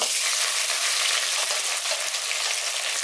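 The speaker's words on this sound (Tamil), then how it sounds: "கருவேப்பிலை, பச்சை மிளகா, சின்ன வெங்காயம் எல்லாம் இடித்து வச்சுருக்கோம். அதை போட்டுடலாம்." Crushed curry leaves, green chillies and shallots fry in hot oil in a pan for a chicken uppu kari, making a dense, constant close-up sizzle with no talk.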